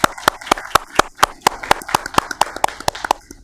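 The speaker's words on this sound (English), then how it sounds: "All right, we could all applaud." Steady, evenly spaced claps ring out at about four per second, crisp and close, like a small group clapping in unison at a meeting rather than a dense crowd.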